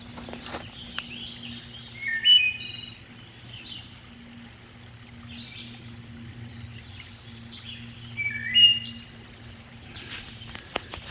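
A bird calls twice along a forest trail in the Ozark Highlands, two brief, clear chirping phrases several seconds apart over a faint steady hum and quiet background.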